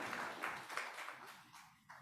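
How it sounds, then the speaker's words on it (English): Audience at a gender equality event applauding, faint scattered clapping from a modest crowd that thins and tapers off toward the end. "Yes, give her applause too."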